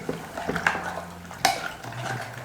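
A spoon scrapes and clinks against a metal cooking pot as sambar with water and a little oil is stirred, with several sharp taps and a soft background hum, close and moderately loud.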